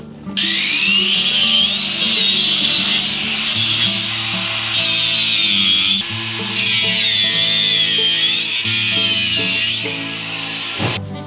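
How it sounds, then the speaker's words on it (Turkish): A loud power tool fitted with a sanding-grinding bit whines steadily with a grinding, abrasive edge, its pitch shifting as it bites into material, running continuously for the whole stretch. "şöyle güzel bir zımpara taşlama ucu koydum"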